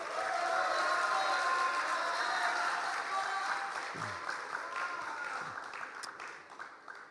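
An audience applauds the chairman Bung Nanda Satria at the ASEAN Youth Creative Meeting at Universitas Andalas, a steady wash of clapping that slowly thins and fades toward the end.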